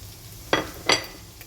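Onion and garlic frying in a pan, with a low background sizzle broken by two short, bright scraping stirs about a third of a second apart.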